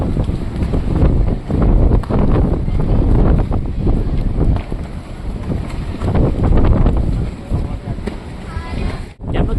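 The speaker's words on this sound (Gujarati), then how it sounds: "કેટલો પવન ફૂંકાય છે મિત્રો." Strong wind gusts past the rear gate of the Mahakali temple at Pavagadh, a loud continuous roar buffeting the microphone and swelling and easing over several seconds before a sudden brief dip near the end.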